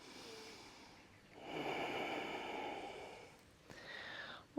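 One slow, deep yoga breath drawn in and let out through the nose, close and soft, a long airy inhale swelling then a breathy exhale, with no talk over it.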